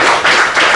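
An audience at a French business conference applauds a speaker, a short burst of dense, loud clapping from a nearby crowd with slight swells.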